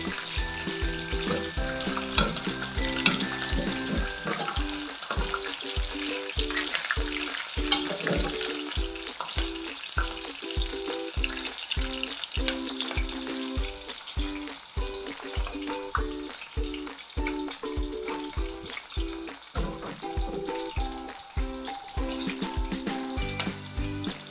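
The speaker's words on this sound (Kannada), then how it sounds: "ಸ್ವಲ್ಪ ಬ್ರೌನ್ ಕಲರ್ ಬರೋ ತನಕ ಇದನ್ನು ಫ್ರೈ ಮಾಡ್ಕೋಬೇಕು" Chopped onions frying in oil in a pan for a Malnad-style fish sambar, a continuous loud sizzle punctuated by regular rhythmic scrapes and stirs of a spoon against the pan, with no talking.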